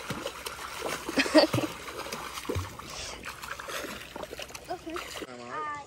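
A five-year-old child swims and splashes in a deep pool during a family swimming lesson, with continuous water splashing and sloshing while adults talk and call out encouragement throughout.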